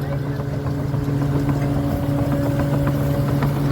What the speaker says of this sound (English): You can hear the drum spinning.